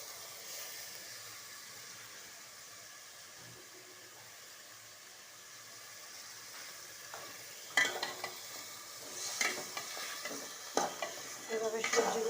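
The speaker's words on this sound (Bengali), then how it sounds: "এভাবে সবজিগুলো কষায় নেবেন" Vegetables, including pumpkin, sauté in a pan with a soft steady sizzle, then a utensil scrapes and stirs through them in several louder bursts near the end, close by and without talk.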